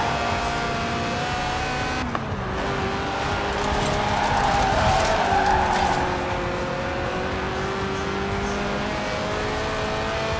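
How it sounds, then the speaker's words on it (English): A car drifts in Forza Horizon 4, its engine droning and revving while tires squeal in a long sustained screech through the slide, with no talk over it. "The honourable art of drifting."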